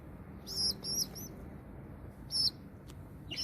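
Young pet lovebirds give a few short, high, thin chirps in quick bursts over a low room hum, with no talking.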